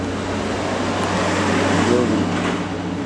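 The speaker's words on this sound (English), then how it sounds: "Noisy truck out there." A noisy truck passes outside, a steady broadband engine and road rumble with a low hum that builds slightly near the middle, heard indoors at moderate distance.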